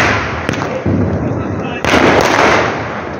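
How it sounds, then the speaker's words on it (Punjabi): Small firecrackers crackle and pop in loud, rough bursts during a Ravan dahan effigy burning at a school celebration, with people's voices mixed in. "ਛੋਟੇ ਪਟਾਕੇ ਵੀ"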